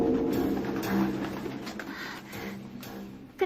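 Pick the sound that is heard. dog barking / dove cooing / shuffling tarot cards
dove cooing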